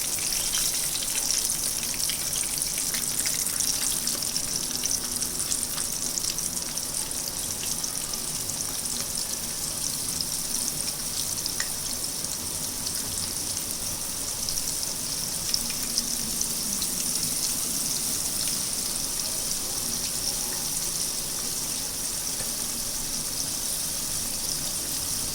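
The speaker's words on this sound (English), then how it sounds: "We will fry the prawns till it is golden brown, and the prawns cook very fast" Cleaned, deveined prawns frying in very hot oil until golden brown, giving a loud, steady, dense sizzle and crackle that stays even throughout with no talk over it.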